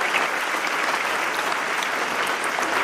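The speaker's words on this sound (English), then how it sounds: "A big round of applause for Iqbal Kherodawala." Sustained, dense applause from an audience at a Print Summit panel discussion, honoring the moderator, a full room clapping steadily and loudly throughout without a break.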